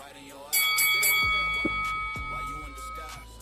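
A bell rings out loudly in a few quick strikes with a long ringing tone that fades slowly, while people talk over it.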